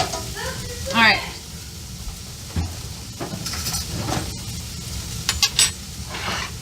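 Pork chops sizzle in a cast iron skillet on medium heat, a steady soft frying hiss beneath a person talking, with occasional utensil clinks and scrapes against the pan.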